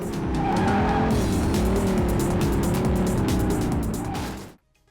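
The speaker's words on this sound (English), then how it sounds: "the roaring engine of the Shelby Cobra." A Shelby Cobra sports car in the racing video game Vanishing Point on Dreamcast roars at full throttle, a loud, dense engine drone with tire squeal, holding steady for several seconds before cutting off abruptly.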